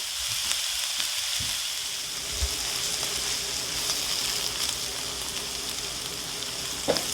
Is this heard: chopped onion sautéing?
yes